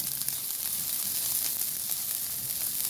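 Garlic sizzles in a pan while being sautéed for ginisang sayote, a close, steady frying hiss with no speech.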